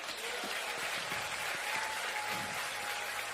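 A church congregation at an evening service applauds, a steady, dense wash of clapping from a large crowd that continues evenly throughout, with a faint voice briefly audible beneath.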